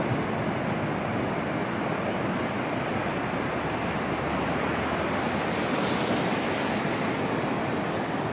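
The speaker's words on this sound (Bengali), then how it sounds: "অনেক বড় বড় ঢেউ আসতেছে" A constant, heavy roar of big ocean waves breaking on the beach at Cox's Bazar during a cyclone storm signal, dense and unbroken, with a windy rush over it.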